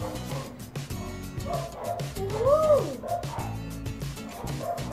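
Neighbouring dogs bark and yip at a distance, a few barks and a whining howl rising over a murmur of indoor voices.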